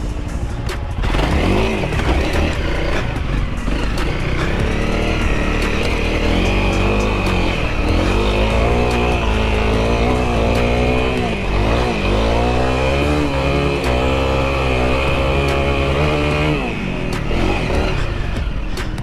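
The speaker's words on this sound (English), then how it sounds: "Could you hear the revving?" An off-road vehicle engine revs hard and steadily while climbing a slippery, greasy hill in Wayne National Forest. The throttle rises and falls without a break, loud and close, for the whole stretch.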